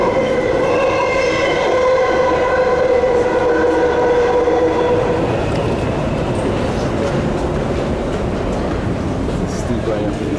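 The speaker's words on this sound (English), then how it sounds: "on a train on the Jubilee line" London Underground Jubilee line train heard from inside the carriage: a rising electric motor whine over a loud, steady rumble of wheels on track that continues throughout.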